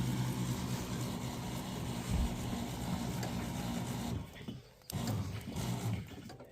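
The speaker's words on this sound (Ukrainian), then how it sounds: "Ось так працює мій оприскувач." A homemade sprayer on a walk-behind motor tractor drones steadily up close, a rough continuous mechanical hum that dips briefly toward the end before picking back up.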